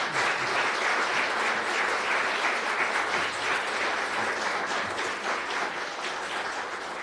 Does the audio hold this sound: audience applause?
yes